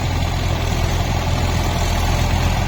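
Mahindra 475 DI tractor engine running in a puddled field, a loud steady low diesel throb close by, unbroken and even for the whole span.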